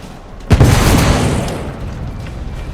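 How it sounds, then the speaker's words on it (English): A heavy explosion aboard a ship in The Order: 1886, one deep booming blast that swells abruptly and then rumbles away slowly, loud and close, with no voices. "The damage from the explosion is getting worse."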